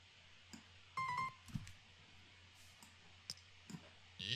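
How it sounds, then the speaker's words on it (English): An optical mouse clicks in a quiet room while someone plays Reader Rabbit's Interactive Math Journey, giving sparse, crisp single clicks spaced irregularly, fairly close and distinct against faint background hum. "I'm also very glad I'm using an optical mouse and not my trackpad."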